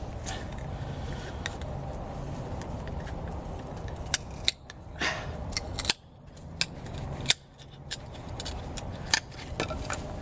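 Swiss Army Knife Farmer folding knife batoned into wood, giving a series of sharp cracks and knocks, several spaced irregularly over a steady low background, close and fairly loud.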